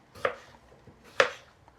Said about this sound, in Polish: I pomidorki wrzucamy do garnka